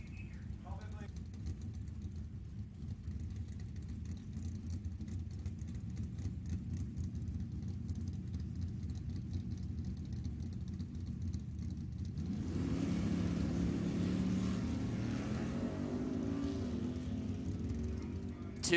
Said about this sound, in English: Right side, Mr. Marco Paravalaris, Pinella Race Engine, and Hoosier Tire sponsored, 1963 Nova, dialed in 610.